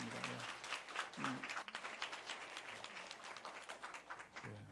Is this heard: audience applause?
yes